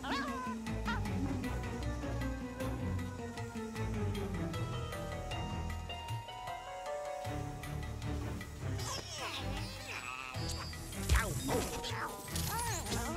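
Cat meowing in Luigi's Mansion 3, with several drawn-out meows over busy game music, mechanical clanks and ratcheting effects throughout.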